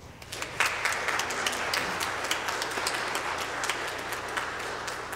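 A church congregation applauds continuously, many hands clapping in a dense, even wash of sound that holds steady for several seconds.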